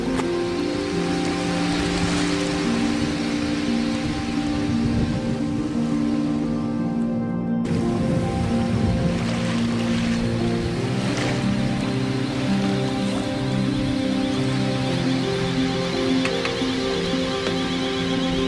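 Sailboat under way at sea, leaving Fort de France, with a steady broadband rush of wind and water against the hull and a low rumbling undertone throughout; a brief dip near the middle, no talking.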